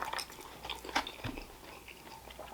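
Close chewing and biting on a mouthful of Chinese beef and broccoli with New Mexican street corn Cheetos, a few soft crunches and wet mastication sounds at an uneven pace, moderately faint and with no talking.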